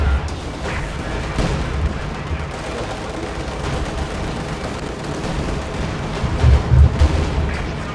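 A steady rumble of distant explosions and gunfire from an Il-2 airstrike in Company of Heroes 2 rolls on throughout, with a heavier burst of blasts near the end.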